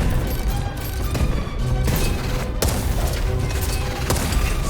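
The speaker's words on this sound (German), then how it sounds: "Einmal alle Granaten rauswerfen." Heavy booms and blasts of thrown grenades pile up in quick succession, a dense barrage of explosions with sharp cracks in a chaotic Titan boss fight in the game Steelrising.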